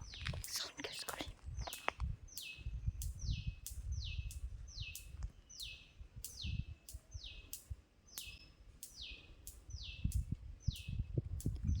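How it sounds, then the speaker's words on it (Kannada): Birds calling in a Malnad forest along a rough village track: a repeated bright, sharp call sounds in a steady rhythm about every second, with footsteps, rustling and soft talking underneath. "ಎಷ್ಟು ಚೆನ್ನಾಗಿ ಕೂಗ್ತಿದ್ದಾವೆ ಹಕ್ಕಿಗಳು"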